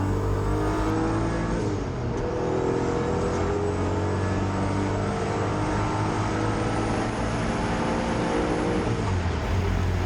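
A turbocharged Toyota MR2 race car at Hampton Downs revs hard and steadily close by, its engine note climbing and dipping through gear changes with turbo whine, loud and continuous for ten seconds.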